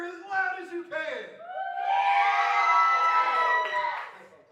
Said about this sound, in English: anytime this bumbling buffoon steps on stage, you cheer as loud as you can